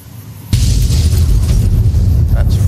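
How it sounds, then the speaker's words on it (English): A vehicle blowing up in Fallout: New Vegas, a sudden loud blast followed by a sustained roaring rumble that fills the rest of the clip with no pause. "It makes my day to explode something that way."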